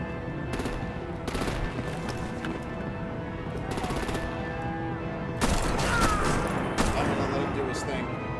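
Gunfire in a Batman action game: sustained rapid bursts of automatic weapons with sharp cracks and a heavier volley near the end, mixed with voices and game sound.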